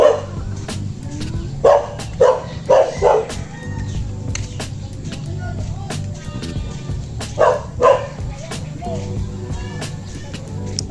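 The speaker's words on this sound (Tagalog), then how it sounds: "Sinasabi ko nga ba may aso." A dog barks in short clusters of sharp barks, a few at a time, fairly close, with pauses between bursts and faint background noise.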